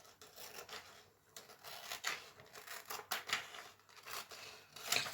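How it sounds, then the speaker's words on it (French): Scissors snip through material right up to the edge in a quiet indoor craft demonstration, a run of close, crisp cutting sounds with short pauses and a sharper burst near the end. "Et on coupe à ras-bord."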